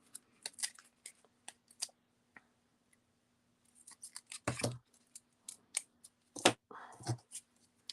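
Scissors snip paper while making Easter cards in a string of short, crisp cuts, some quick and clustered, others spaced apart, with a couple of louder rustles.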